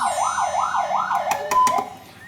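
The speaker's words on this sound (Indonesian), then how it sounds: "jika kalian mendengar suara sirine ambulan" A wailing ambulance siren sweeps up and down in a steady repeating cycle, loud and close, before a few sharp clicks and a short tone break the pattern near the end.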